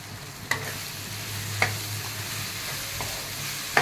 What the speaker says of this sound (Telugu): కారం వేసి ఒక వన్ మినిట్స్ ఆయిల్లో ఫ్రై చేయాలి బాగా కారం వేసి బాగా కలపాలి